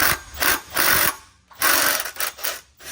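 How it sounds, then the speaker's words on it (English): A 90-degree impact wrench rattles water pump bolts loose on a Ford 3.0 engine, in several bursts of rapid hammering separated by short pauses, close and fairly loud. "come in here with this 90-degree impact and just impact those guys right out"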